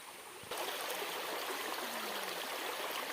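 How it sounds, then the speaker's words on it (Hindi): A stream that runs all year flows steadily nearby, a dense, even rush of water that jumps louder after the first half second and then holds constant with no talking. "12 महीना यहाँ पानी चलत रहते"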